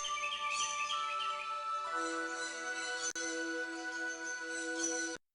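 A bird whistle sounds in a Carmen Sandiego game set in the Aztec Empire, giving a run of bright chirping calls over a steady tonal backdrop before cutting off.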